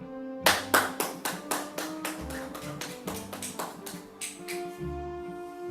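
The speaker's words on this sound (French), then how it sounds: "Vos applaudissements." A small audience at a French literary improvisation gathering claps a winner, sparse and distinctly separate hand claps at a steady pace, close and fairly loud, lasting several seconds with no talking.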